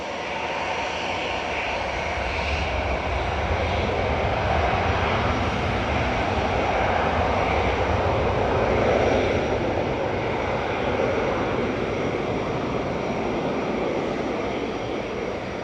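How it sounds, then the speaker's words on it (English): A Boeing 747 cargo jet flying for Emirates SkyCargo, arriving from Dubai at Manchester Airport, roars steadily and loudly from engines held at constant power, a broad unbroken rumble with no talk over it. "The 747's operating on behalf of Emirates SkyCargo, coming in from Dubai"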